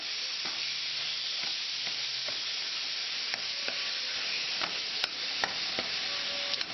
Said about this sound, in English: And while your meat is cooking